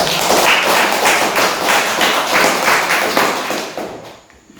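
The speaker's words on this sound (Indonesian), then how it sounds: "Oke, tepuk tangan." Classroom audience clapping after a student presentation, a steady patter of many hands lasting about four seconds, close and fairly loud before tapering off at the end.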